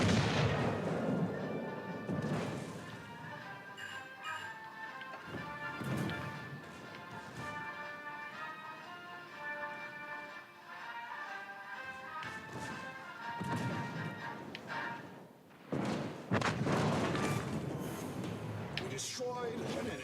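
Naval gun salvos and secondary batteries boom and crash repeatedly in a World of Warships: Legends battle, with heavy impacts layered over game music and someone talking throughout.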